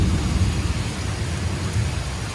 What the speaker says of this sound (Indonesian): Ya, hujan lagi. Petir lagi.